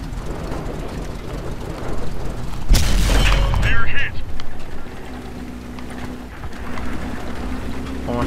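A tank cannon in the World of Tanks game fires once with a heavy, deep boom and a brief rumbling tail, amid continuous engine drone and someone speaking over it.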